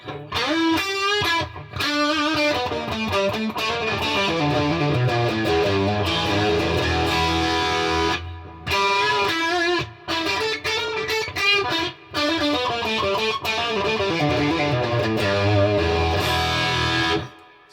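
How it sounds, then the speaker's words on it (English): Loud, heavily overdriven electric guitar through a Boss BD-2 Blues Driver pedal, playing dense rock riffs and chords, with a few brief pauses between phrases. "Getting into heavy rock tones already on the Blues Driver."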